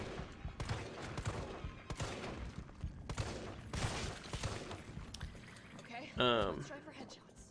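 Gunfire rings out in the Resident Evil 3 Remake video game, repeated bursts of shots crackling beneath a continuous game soundtrack, then a sharper distinct noise near the end.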